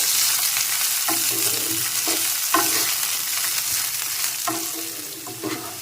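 Cashews, raisins and green peas being stirred in a pan for sago pilaf, a constant loud sizzle with repeated spatula scrapes at an unhurried pace, close and without voices.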